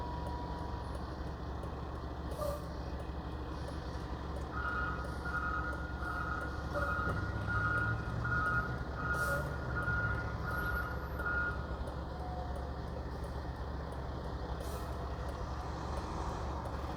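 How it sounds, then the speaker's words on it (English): A truck making a tight turn on a city street in Philadelphia's Grays Ferry neighborhood sounds steady reversing beeps over a low engine rumble and street noise, moderately distant, with no talk. "We're gonna allow this truck to straighten up his vehicle. It looks like he's trying to make this turn"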